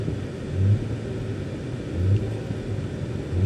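Low rumble of a 2013 Audi A4 2.0L engine running rich, with two brief revs lifting the idle about a second and a half apart, heard close in a quiet setting.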